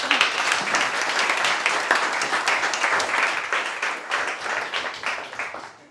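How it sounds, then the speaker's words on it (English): Sustained audience applause fills the room at a tech talk on AI fairness, dense clapping holding steady before thinning and tapering toward the end. "Give a round of applause for Zamina."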